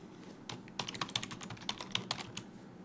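A password being typed on a computer keyboard: a quick run of light, close key clicks in an uneven rhythm lasting a couple of seconds, quiet and with no voices.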